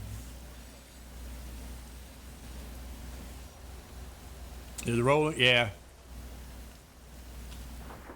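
Rain in a trucking video game, a constant broadband hiss like steady rainfall or road spray heard from inside a truck cab, with a brief spoken exchange partway through.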